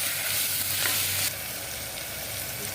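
Seeraga samba mutton biryani masala with mint and coriander sautéing in a pan, Dindigul Thalappakatti style: a loud close sizzle with stirring scrapes, the level dropping midway as the mix is turned.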